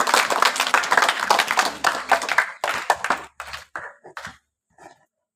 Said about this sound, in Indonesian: sekali lagi kita berikan aplaus